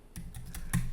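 A few keystrokes typed on a computer keyboard while entering a search term, four or five soft separate taps spaced irregularly, close and fairly quiet.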